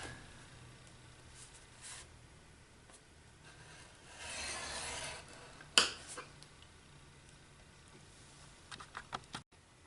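Paper being scored along box score lines produces quiet, intermittent rubbing and scraping strokes, with one brief sharp click partway through and a few small taps near the end.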